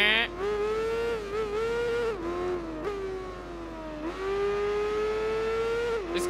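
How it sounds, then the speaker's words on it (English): A racing motorcycle engine screams in a Tourist Trophy video game race. The tone rises and falls through several gear shifts and throttle lifts, loud and continuous for about six seconds. "This car, this bike sounds amazing though."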